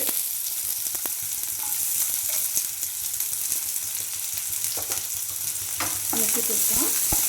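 Chopped shallots and mustard seeds frying in coconut oil give a dense, close, continuous sizzle with occasional pops and stirring scrapes. No one speaks.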